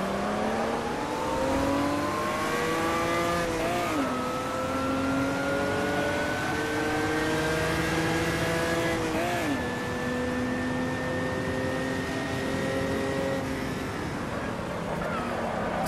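Opala stock cars race at Velopark in Automobilista, with engines droning and revving in rising and falling pitch, dipping sharply at gear changes, while a voice talks faintly underneath.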